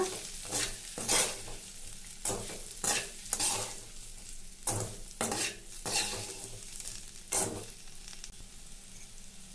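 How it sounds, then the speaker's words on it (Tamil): Masala stirred into ivy gourd fry in a pan, with repeated scraping strokes of a spoon against the pan over a light sizzle, close and rhythmic, about a dozen strokes, no speech. "இது மாதிரி மசாலா சேர்த்துட்டு நல்லா மிக்ஸ் பண்ணி விட்டுக்கலாங்க"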